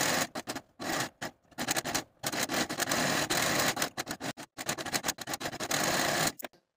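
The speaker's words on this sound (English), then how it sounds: "I'm going to take it to my serger and serge the entire inner unnotched edge of the facing" A serger runs along the inner unnotched edge of a button-up top's facing, whirring loudly and close in repeated bursts separated by brief stops.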